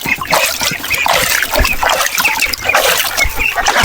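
Water splashes and trickles steadily at a farmhouse as people bathe outdoors, close and fairly loud, with faint animal sounds in the background.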